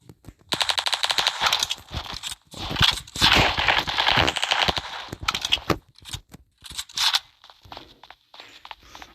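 Rapid automatic gunfire from video game weapons, including a UMP 45 submachine gun, rattles in loud bursts separated by short pauses, with footsteps and scrapes between volleys and no talking.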